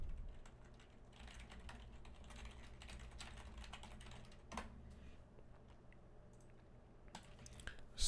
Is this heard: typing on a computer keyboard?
yes